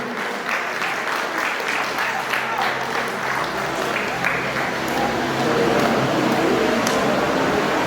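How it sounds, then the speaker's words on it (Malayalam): Audience applause fills the hall, steady and loud throughout, with clapping from a large crowd at a stage event as a young performer is welcomed. "കൈയടിക്കൂ."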